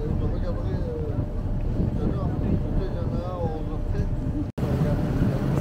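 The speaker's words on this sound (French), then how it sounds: "Ça y est, les moteurs sont démarrés, on va partir." Outboard boat engines idle and rumble at a dock before a ferry departs for Porquerolles island. The steady low drone is mixed with wind noise and faint chatter.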